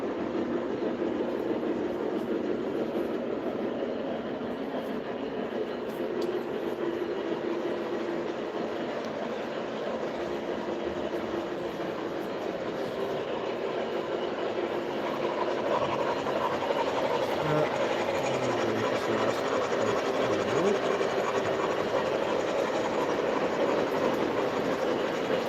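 A Maine Central train rolls past in a steady, continuous rumble with a faint hiss and wheel clatter, holding level for the whole stretch.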